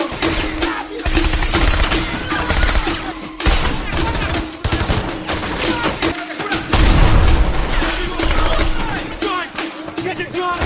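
Loud, dense gunfire cracks and booms in rapid bursts throughout, with heavy thuds and chaotic commotion in a close-range firefight.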